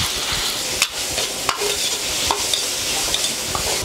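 Minced pork frying in a little oil in a wok for chili pork with century eggs, a dense continuous sizzle broken by several scraping stirs of the spatula, close and loud.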